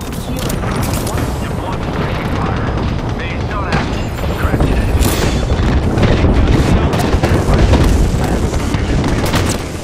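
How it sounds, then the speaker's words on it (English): Airstrike explosions in Apex Legends, a dense, sustained barrage of heavy booms and crackling blasts that rolls on without pause at high volume, with game voice lines mixed in. "Airstrike."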